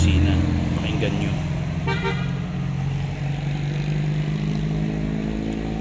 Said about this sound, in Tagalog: lahat ng dumadaan na sasakyan ay bumubusina